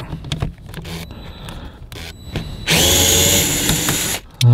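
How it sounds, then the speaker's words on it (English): A power drill removes the screws beneath the glove box of a 2018–2024 Volkswagen Tiguan. Short, close whirring bursts come first, then one longer, loud, continuous spin, with no talking. "I'm actually going to take off these two screws because of the way we're set."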